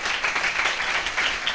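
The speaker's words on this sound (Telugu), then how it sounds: "గట్టిగా చప్పట్లు కొట్టిన పురుషులందరికీ" A church congregation applauds loudly during a Sunday worship service, a dense, steady wash of many hands clapping without a break.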